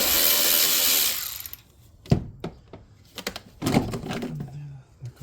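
A ratchet works 6mm hose clamps on the power steering of a Land Rover Discovery 2, giving sharp clicking bursts and pawl ticks in short irregular runs after a loud opening noise.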